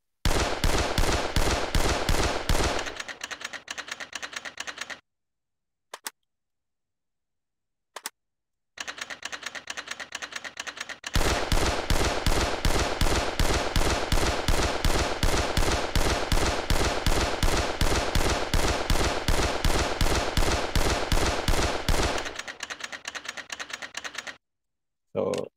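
Gatling gun in World of Guns firing while its barrels rotate, a long dense mechanical rattle of rapid evenly spaced shots, stopping briefly and then resuming for a sustained burst.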